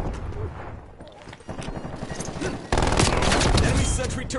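Sentry turret in a video game firing dense bursts of rapid gunfire, growing louder and more continuous toward the end, with some radio chatter mixed beneath.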